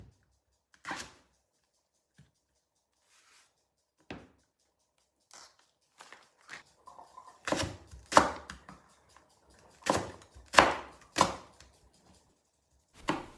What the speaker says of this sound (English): So I started off by slicing the zucchini into little cubes, and then I sliced the leeks